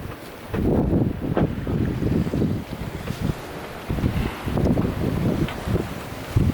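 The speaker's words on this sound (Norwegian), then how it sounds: "Men har fortsatt god vind." Steady, loud gale-force wind roar buffeting the microphone on a sailboat at sea between Nova Scotia and Newfoundland, with surging gusts and the wash of waves against the moving boat.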